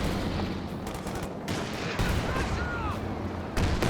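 Bazooka fire during a Company of Heroes 2 battle, a dense stream of gunfire and booming shots at steady loudness, with overlapping explosions and no clear gap.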